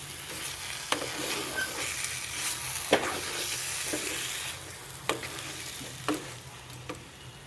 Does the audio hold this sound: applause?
no